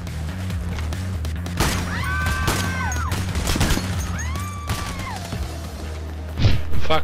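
Gunfire from the Payday heist video game on the Heat Street level: a handful of sharp, loud shots and thuds ring out at irregular moments over steady background game noise.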